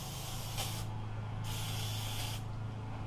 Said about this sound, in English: I better spray this one off too.